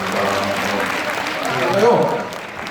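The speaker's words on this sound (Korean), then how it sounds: "네, 여러분 뜨거운 박수" Warm applause from an audience at a New Year constituency report meeting, broad clapping blended with voices and speech on top, swelling slightly near the end.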